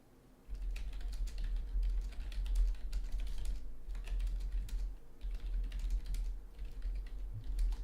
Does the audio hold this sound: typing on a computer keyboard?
yes